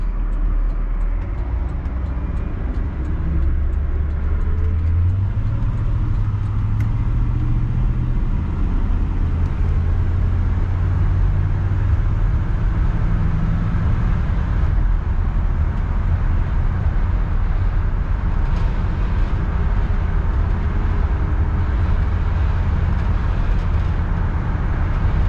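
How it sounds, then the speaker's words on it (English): A 1966 Ford Galaxie 500 convertible cruises down the road, its axle giving a faint steady whine beneath the constant low drone of the engine and tire and wind noise. "Can you hear the happy axle sing a little bit?"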